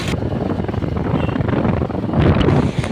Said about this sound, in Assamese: অলপ অলপ বতাহো দি আছে